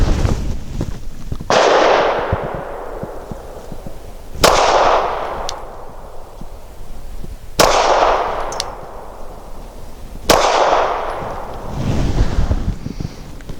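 A Canik TP9 Elite SC pistol fires Remington Golden Saber 147-grain brass-jacketed hollow points outdoors, four sharp, loud reports spaced roughly three seconds apart, each followed by a short ringing decay.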